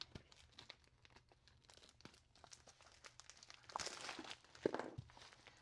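Fabric shipping package being cut open and pulled apart during a sewing haul unboxing of fabrics from India, with soft crinkling and rustling that swells into louder tearing and crunching near the end, close and fairly quiet.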